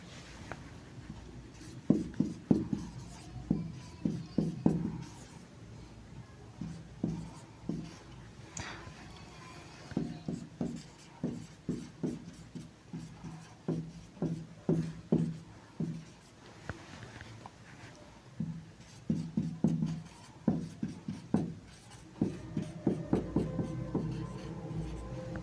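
Pen or marker strokes writing out a chemical reaction for alcohol preparation in a chemistry lesson, a steady series of short scratchy taps and scrapes close to the microphone, with no talk over them.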